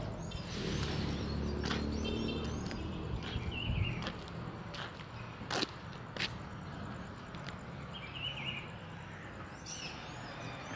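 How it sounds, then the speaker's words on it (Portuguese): A Pitiguari sings at dawn in urban Álvaro Weyne, Fortaleza, Ceará, Brazil. Its faint, distant melodic phrases come twice through steady background noise, with scattered sharp clicks and taps nearby. "Esse cântico lindo que você está ouvindo aí é o Pitiguari"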